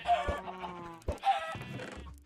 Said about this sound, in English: Why are there so many chickens in here?